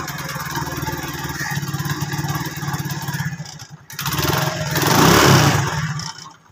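A motorcycle engine in the Kashmir region fires up and runs, a steady mid-pitched putter that dips briefly before revving louder and rougher toward the end, close by with no talk over it.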